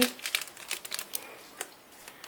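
Scissors snip and crinkle open a foil sachet of football trading cards from a mini collector's tin, a run of short, quiet crackling rustles close by, with occasional faint voices around.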